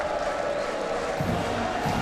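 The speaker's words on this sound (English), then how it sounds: "A raucous crowd here at the Big House." A raucous crowd of about 110,000 fills Michigan Stadium, the Big House, at a Michigan versus Wisconsin college football game, giving a steady, dense roar throughout with a few louder surges.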